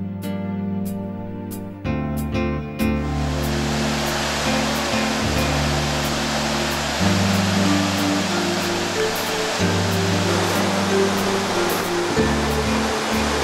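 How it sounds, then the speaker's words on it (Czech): A steady, powerful roar of waterfalls in a green Philippine gorge fills the scene, loud and close, with broad rushing noise and a low rumble underneath. "Pěkné vodopády jsou kryty v zelené rozsedlině"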